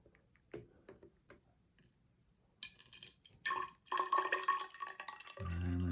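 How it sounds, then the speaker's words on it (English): Water poured into a graduated cylinder during a density experiment, starting with faint ticks and drips, then a louder, bubbly gurgling pour that builds over the last seconds, close by with no talking. "I'm gonna pour some water into our graduated cylinder."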